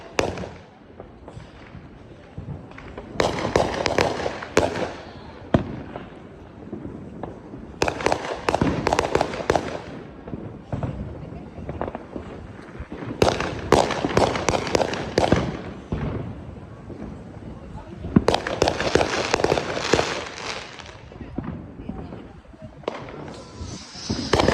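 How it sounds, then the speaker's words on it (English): Fourth of July fireworks bursting outdoors in rapid crackling volleys, several loud clusters of bangs and crackles separated by quieter gaps, with voices faintly in the background. "Just watch the fireworks."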